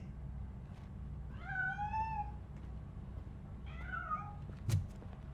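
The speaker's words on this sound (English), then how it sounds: "That cat must be hiding inside." A cat meows twice in the video game Robocop: Rogue City, long drawn-out cries a couple of seconds apart, followed by a sharp knock against a quiet, humming background.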